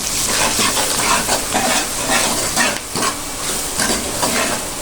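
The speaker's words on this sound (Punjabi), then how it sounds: "ਆਪਾਂ ਇਹਨੂੰ ਮਿਕਸ ਕਰ ਦਿੰਦੇ ਮਸਾਲੇ ਸਾਰੇ ਨੂੰ" Dry spices and green chili are stirred into a frying masala for kadhi pakora, giving a loud, close, continuous sizzle broken by rhythmic scraping strokes of the spoon.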